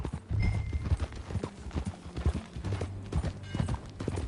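Horse hooves clip-clop in a steady, brisk rhythm in the video game Red Dead Redemption 2, close and moderately loud, with faint background game ambience.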